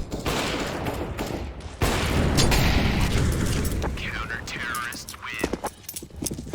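A Molotov bursts into fire in a CS:GO match, a loud whooshing roar of flames amid crackling bangs and gunfire, with talk and shouting over the later chaos.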